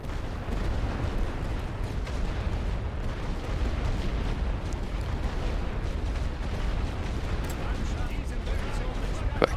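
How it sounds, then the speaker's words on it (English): Artillery fire in the World War One strategy game The Great War: Western Front, a continuous rumbling barrage of distant booms and blasts that stays fairly even throughout, with one sharper crack near the end. "I'll start to drop artillery on them and make it real uncomfortable for them to stay there"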